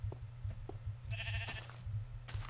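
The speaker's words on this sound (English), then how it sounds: "Don't kill the sheep!" Sheep bleat in a blocky survival game: short, faint bleats recur over a steady low hum, with a brief brighter sound partway through.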